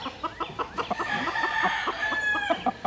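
Chickens on a farm cluck in a steady run of short, close calls, with a rooster's drawn-out crow rising through the middle.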